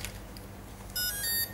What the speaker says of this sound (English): You'll hear 3 cells, 3 beeps again, confirming the number of cells here.